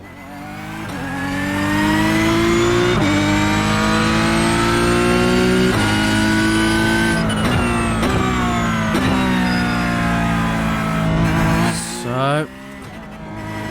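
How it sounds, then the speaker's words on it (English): Porsche 911 GT3 Cup 992 race car in a racing video game, its engine revving up through the gears with a rising, harmonic exhaust note, loud and close, with brief shift breaks and a momentary drop near the end; a voice says a word. "it's got that distinctive Porsche engine and exhaust note"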